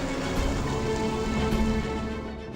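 Heavy rain falls steadily on a stormy night, a dense, even hiss with no pauses and no voices.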